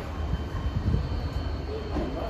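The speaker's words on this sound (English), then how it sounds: "here comes a Class 8100 EMU bound for Howth" An Irish Rail Class 8100 electric multiple unit pulls into track 7 at a Dublin station, bound for Howth, with a steady, fairly close low rumble and hiss that holds for the whole moment.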